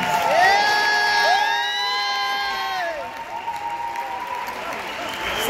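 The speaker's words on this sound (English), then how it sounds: "One more big round of applause, ladies and gentlemen" A crowd at a Mr Gayworld pageant winners' announcement in Cape Town, South Africa, cheers with high rising whoops over steady applause. The whoops are loudest early and fade into lingering clapping.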